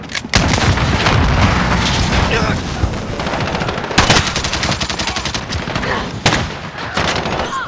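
Dense automatic gunfire and booming shots fill a Modern Warfare video game match, rapid and loud throughout, with sharper blasts standing out.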